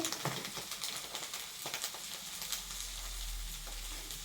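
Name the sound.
oil heating in hot wok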